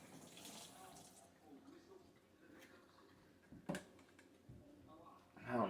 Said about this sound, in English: I've got to rinse it off and then respray it though.